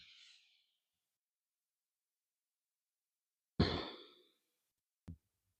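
Soft breaths during a slow spine-wave mobility exercise: a faint exhale trailing off at the start, a long quiet gap, then a clear, close breath out followed by a brief soft puff.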